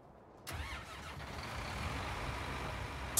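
A tractor engine in Farming Simulator 2019 starts up with a sudden onset and settles into a steady mid-pitched rumble that runs on continuously and fairly quietly, with no talking.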